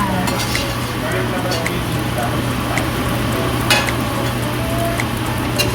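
Beef caldereta ingredients sauté in a pan with a constant loud sizzle and occasional clicks of a utensil, close up, over a steady low hum.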